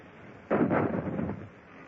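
A muffled, boomy cannon shot from a radio drama naval battle aboard a sailing warship: a single heavy blast that rolls on for about a second before fading, narrow and dull in tone, with no talking over it.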